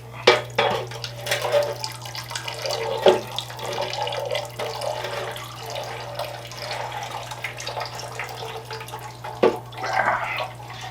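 Leftover coolant drains out of a small-block 350 engine, a steady liquid trickle and splash with occasional louder drips over a constant low hum.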